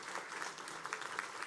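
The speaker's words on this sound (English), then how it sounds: "That's an applause line," Faint scattered applause from the audience at a police academy graduation ceremony, a soft spread of clapping heard from a distance with a few sharper claps, brief and low in level.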